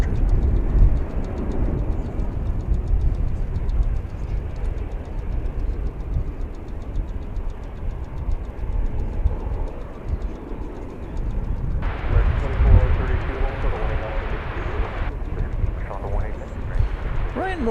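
American Airlines Boeing 737-800 jet arriving from Los Cabos on landing, a broad steady roar of engine and airflow lasting throughout, with a brighter rushing swell late on and voices talking over it.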